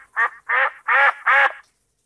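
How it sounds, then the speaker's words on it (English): A duck quacks four times in a steady rhythm, each loud, close, nasal call evenly spaced with short gaps, then silence; no voices are heard. "D as in duck."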